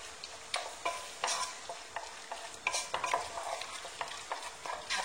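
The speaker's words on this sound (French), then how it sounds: "Et je mélange. Je laisse revenir le mélange." Paprika, chili powder and salt sizzle steadily in a hot pan while a spoon stirs and scrapes through them in irregular strokes, close and moderately quiet, with no talking.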